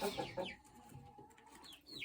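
Chickens in a coop, with a few soft clucks and short squawks close by at low level, brief and intermittent over a quiet background.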